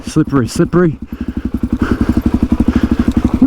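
A DRZ400E dirt bike rides a wet, slippery trail. A voice is heard briefly at first, then the single-cylinder engine thumps in a fast, loud, steady pulse close by.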